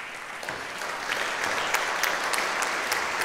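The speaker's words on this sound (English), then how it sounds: "please give a warm round of applause for our resident maverick at the Festival of Media" Audience applause at a media industry festival panel, a dense steady patter of many hands clapping that swells slightly after the first second and holds, with no voices over it.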